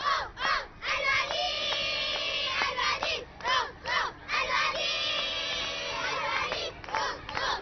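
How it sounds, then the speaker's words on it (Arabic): A group of children cheers and shouts loudly for the winning team after a jump-rope and foot stone-pushing contest, in rhythmic bursts of rising chants broken by short pauses. "نسمع لهم بالله، تشجيع تشجيع قوي، تشجيع قوي"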